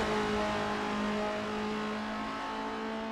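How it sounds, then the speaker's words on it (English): Race car engines in Assetto Corsa on the Estonia-25 circuit, a loud, steady, sustained roar of engines at high revs, heard without any voices. "The roaring engines are echoing Eddie's battle cry."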